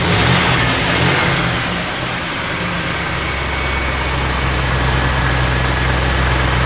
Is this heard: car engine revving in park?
yes